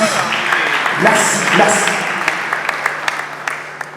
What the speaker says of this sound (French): encore une fois, vos applaudissements dans la salle